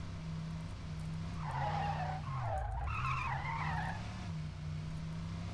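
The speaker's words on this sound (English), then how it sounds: "Those tire screeching sounds." Cars in a supercar racing video game skid and squeal their tires in a long sustained screech over a steady engine drone, loud and continuous for several seconds.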